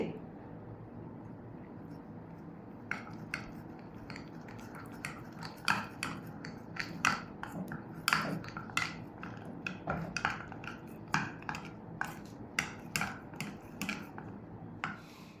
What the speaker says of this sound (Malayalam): രണ്ട് സ്പൂൺ പാലും ചേർത്ത് നന്നായിട്ട് മിക്സ് ചെയ്തെടുക്കാം